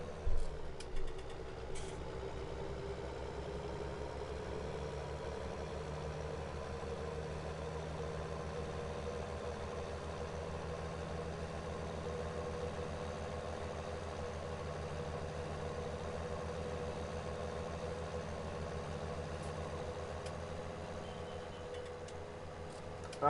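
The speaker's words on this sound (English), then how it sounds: "this tractor's underpowered" An underpowered farm tractor idles in Ireland with a steady, low diesel rumble and a faint mechanical hum, running evenly and unchanging for the whole stretch after a few brief knocks at the start.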